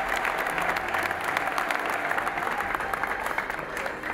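A church congregation applauds together in a continuous, even wash of many hands clapping that carries on for several seconds without a break.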